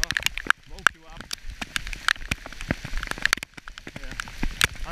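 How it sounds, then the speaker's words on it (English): Rain from a thunderstorm patters close by, with sharp drop hits and crackly splashes over a steady wash, while a person talks over it in spells. "the rain will not last long"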